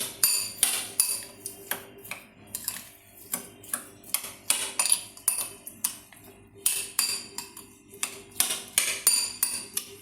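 A spoon clinks and scrapes rhythmically against a bowl while stirring boiled milk into other ingredients, a steady series of sharp metallic taps with no talking.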